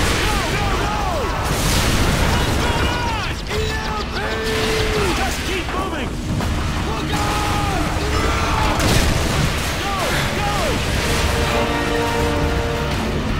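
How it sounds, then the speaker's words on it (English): Repeated booming blasts and crashes in Modern Warfare 2 ring out amid continuous rumbling battle noise, with whistling debris and scattered impacts throughout. "Explosions rock your screen, and then it all goes quiet."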